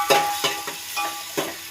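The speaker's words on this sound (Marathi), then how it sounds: "कांदा, आता त्याला मिक्स करून घेऊया." Chopped onion and chilli frying in a pan for pav bhaji over high heat are mixed with a spoon in a few scraping strokes over a soft sizzle, close and unaccompanied by speech.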